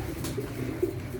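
Pigeons coo softly in a few low, throaty bursts at close range, alone with no talk.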